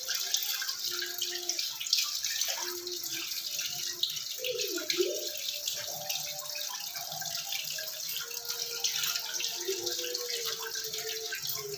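Tap water running steadily while someone washes, a continuous close splashing stream with faint voices in the background.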